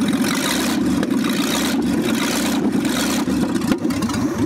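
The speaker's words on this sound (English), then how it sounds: "She's revving like she's supposed to." A 1965 Ford F100 pickup engine, long buried outdoors, revs steadily and loudly throughout, with a rough, throbbing low rumble that surges slightly and never drops to silence.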